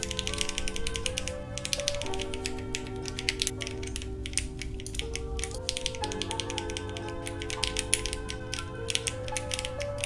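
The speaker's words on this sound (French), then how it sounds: "vous allez pouvoir écouter différents bruits de touches." Rapid, continuous clicking of Akko Monsgeek M1 mechanical keyboard keys during a game, a dense clatter of presses layered over steady electronic tones in the background.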